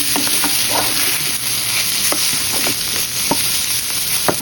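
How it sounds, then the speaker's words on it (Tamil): Green chillies and curry leaves frying in a pan for a Sri Lankan stuffed capsicum curry. A loud, constant sizzle carries repeated short scraping strokes from the stirring utensil. "மிக்ஸ் பண்ணி ரெண்டு நிமிஷம் வதங்க விடுவோம்"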